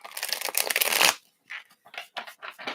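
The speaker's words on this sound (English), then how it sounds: "let's shuffle these up." Tarot cards are shuffled close by, starting with a loud, continuous riffling flutter for about a second, then giving way to shorter, choppy bursts of cards sliding and tapping.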